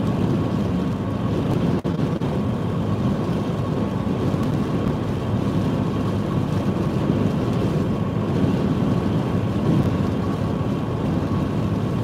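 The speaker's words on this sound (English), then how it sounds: "the wind across here is pretty rough" Strong Storm Franklin wind buffets the sea front, a steady loud roaring rush and microphone rumble that holds unbroken throughout with no talking.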